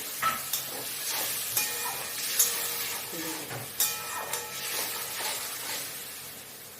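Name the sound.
curry gravy with potatoes boiling in a pan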